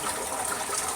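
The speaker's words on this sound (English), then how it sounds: "Flush the toilet." A household toilet flushes, a steady close rush of gushing water filling the whole moment with no voices over it.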